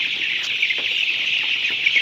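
Chickens on a poultry farm, some of them sick and awaiting vaccination, cluck softly a few times over a steady high-pitched background hum.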